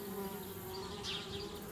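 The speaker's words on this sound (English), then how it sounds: "Darn bees, trying to move into our treehouse." Bees buzz around a treehouse in the Anna's Quest video game, a steady, droning insect hum that holds for a couple of seconds without speech.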